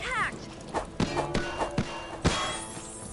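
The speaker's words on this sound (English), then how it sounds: "we can actually ride the horse now" Horse hooves walking in a video game, several separate thuds spaced irregularly under background game sounds, fairly close and moderately loud.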